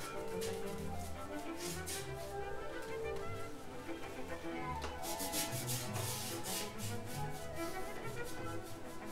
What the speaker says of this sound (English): I'm using my 3/4 of an inch brush here.